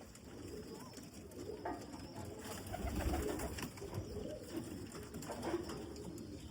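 Pigeons at a Lahore loft keep up a soft, low cooing throughout, a steady murmur from several birds with a few slightly louder swells, sitting in a busy room ambience.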